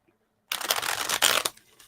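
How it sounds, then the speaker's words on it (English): Tarot cards being shuffled by hand during a reading, a close, crisp burst of riffling and flapping that runs for about a second, with a brief swell near the end, and no speech. "I hope this shuffling is not too loud"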